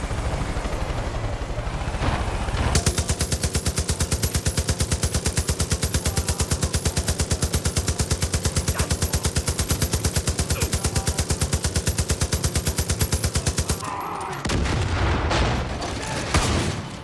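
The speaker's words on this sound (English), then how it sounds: "Who was shooting at me?" Sustained automatic gunfire in the Far Cry 5 video game, a long rapid burst of evenly spaced shots for about eleven seconds, then a short pause and scattered movement noises.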